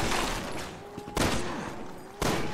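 Gunshots in Resident Evil 6, three sharp loud single shots spaced about a second apart over a low background rumble.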